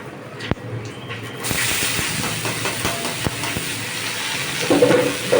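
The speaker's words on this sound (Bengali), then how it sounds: "এবার আমি চাল কুমড়োটাকে ভাজতে থাকবো।" Chopped ash gourd dropped into hot oil over fried whole spices, a sudden loud hiss that settles into a steady sizzling crackle with faint clinks of a utensil.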